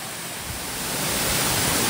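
The waterfall at Chanderai village roars as a broad, steady rush of falling water, swelling slightly louder partway through and continuing without talk.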